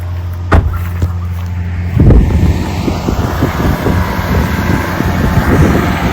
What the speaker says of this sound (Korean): 와씨 바람